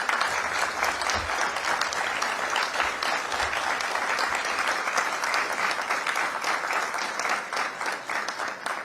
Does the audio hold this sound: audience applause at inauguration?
yes